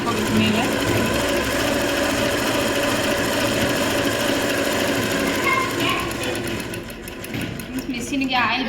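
Sewing machine stitching a plain blouse, a loud, close, continuous whirring and rapid needle clatter running steadily throughout, easing off slightly near the end.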